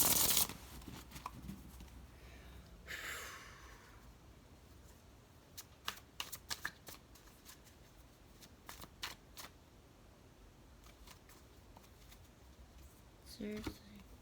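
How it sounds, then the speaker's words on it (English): Oracle cards shuffled by hand, with bursts of crisp riffling clicks that come in uneven clusters and are mostly quiet and close, along with a brief stretch of soft speech. "I'm at the point now I'm about to mix these two together."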